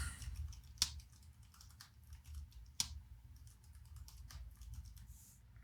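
Quiet keystrokes on a computer keyboard during coding work, soft irregular taps under low background hum, with two sharper clicks standing out.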